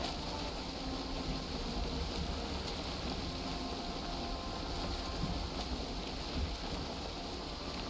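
Rain falls over the open sea in the game Valheim, a soft, even hiss with low water wash underneath, steady and unchanging throughout at low volume.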